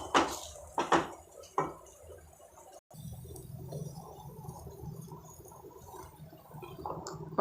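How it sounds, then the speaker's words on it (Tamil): A spoon scrapes and knocks against a pan while rice-urad dal kazhi is stirred over a medium flame. A few sharp clatters come first, then softer, continuous scraping close by. "மீடியம் ஃப்ளேமில் வச்சுட்டு கை விடாமல் இப்படியே கிளறிக்கிட்டே வாங்க."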